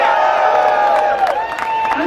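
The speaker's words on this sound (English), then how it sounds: "Give them a cheer." A crowd at a Gaza solidarity rally in Auckland cheers and whoops, loud and sustained, with voices rising together throughout.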